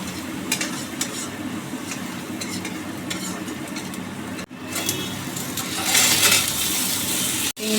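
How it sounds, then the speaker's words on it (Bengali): Shrimp fry and are stirred in a pan with potatoes, making a steady sizzle and scraping that continues without pause, with a brief clatter and a louder hiss of frying near the end. "চিংড়িটা কষা হয়ে গেছে"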